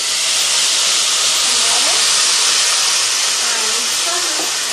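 Loud, steady steaming hiss as a little water is poured into a very hot pan of jackfruit seed stir-fry, sizzling continuously without a break.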